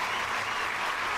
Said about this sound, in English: let me give y'all a round of applause